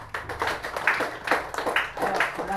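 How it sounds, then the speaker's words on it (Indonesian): A classroom of students applauds in unison, with a quick series of regular, evenly timed group claps over a couple of seconds. Soft chatter runs beneath the clapping. "Baik, tepuk tangan."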